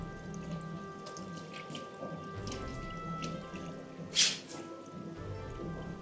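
Angelfish fry poured with their water into an aquarium tank, a soft continuous trickle and splash of water with one brief louder splash near the end, close and alone without talk.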